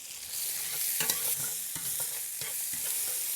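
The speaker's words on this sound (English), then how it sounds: "Next thing that goes in is chopped onion" Chopped onion softens in a pan, giving a quiet continuous sizzle broken by a few scraping stirs from a utensil, close and without any talk.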